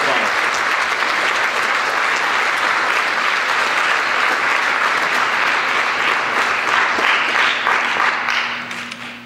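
A crowd at a Millbrook High School baseball banquet gives sustained, loud applause, with many hands clapping in a thick wash that stays even, then fades near the end as a voice begins.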